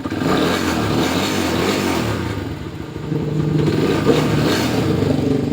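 A Vperman 150 motorcycle fitted with a battery-operated four-pin wiring conversion runs loud and close, its engine droning steadily and then rising in a rev partway through, with no voices.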